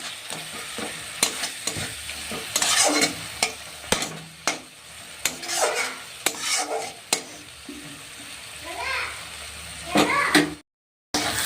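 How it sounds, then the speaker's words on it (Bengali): Spice masala with cumin and coriander powder frying in oil for a Bengali-style rohu fish curry, with repeated scraping strokes of a spatula in the pan over a soft sizzle, close by, plus faint background noises. "ভালো করে এটাকে মশলার মধ্যে নেড়ে চেড়ে নিতে হবে"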